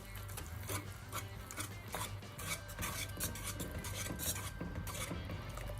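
A utensil stirring Italian herbs, salt, sugar, onion, garlic and oil together in a bowl for a basil sauce, with continuous close scraping and clinking strokes against the dish over a steady low hum.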